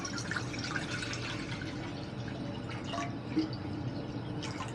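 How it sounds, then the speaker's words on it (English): Water being poured into a pot for cooking pasta, a steady splashing, trickling pour that runs throughout at moderate loudness with no talking. "We're going to use this water."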